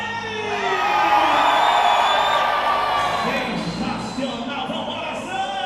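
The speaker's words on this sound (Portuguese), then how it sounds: "No 3 a galera vai gritar bem forte agora, hein?" Crowd in the grandstand at a Superbike race at Interlagos yelling loudly on cue, a sustained swell of cheering and shouting that builds and then tapers off.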